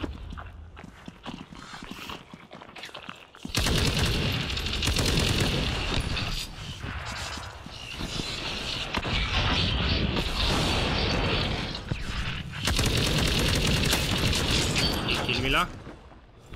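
Sustained bursts of machine gun fire in World War Heroes 2, a WWII shooter, rattle loudly and almost continuously for many seconds. Mechanical clatter and battlefield noise sit in the mix, with short pauses between bursts.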